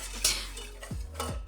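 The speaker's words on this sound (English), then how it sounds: "And I'm gonna really whisk this up well." A whisk clinks against the metal sides of a saucepan while stirring cornstarch, yeast and salt, with a few quick scraping taps and light rattles close by.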